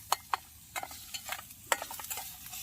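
Stirring food with Maggi masala in a pan at a rainy campsite, sharp scraping clicks of a spatula against the pan over a soft sizzle, close and alone.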